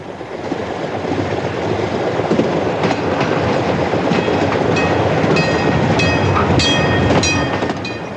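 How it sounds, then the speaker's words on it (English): A steam train rumbles steadily along the rails in Australia, a loud continuous roar with rhythmic clicking and occasional metallic squeals, heard close up. "all the senses are stimulated by a steam haul train"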